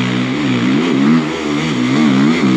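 Motorcycle engine heard while riding in winter, a steady loud drone with rising and falling pitch as the rider works the throttle, close and continuous with no talk.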